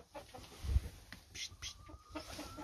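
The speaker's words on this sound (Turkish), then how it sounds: "Burası Wi-Fi chicken kümesi. Tavuk kümesi." Chickens in a cold-weather coop in Alaska cluck softly and intermittently, a few close short calls over quiet background.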